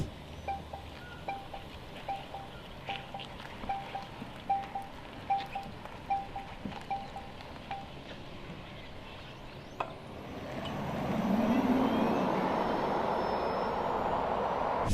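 A Hongqi E-HS9 electric SUV with 405 kW sits with a steady ticking, then pulls away as wind and road roar swell and a faint electric whine rises in pitch.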